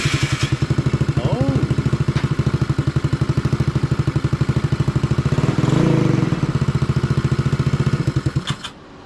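2016 Maddog Honda Ruckus clone scooter with a big bore kit installed, its small engine already running with a loud, close, rapid putter that holds steady, swells briefly mid-way, then cuts off at the end.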